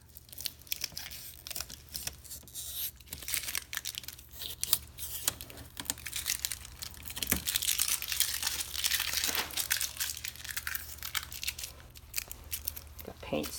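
Plasti Dip coating is peeled off a Corvette's front grill, making close crinkly tearing and crackling sounds in irregular bursts that grow denser and louder toward the middle.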